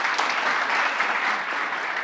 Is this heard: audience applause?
yes